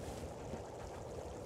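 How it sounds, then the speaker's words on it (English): Steady, moderately loud wind blowing outside in The Long Dark video game, a continuous broadband rush with no talk over it. "Yeah, the wind ain't sound very good out."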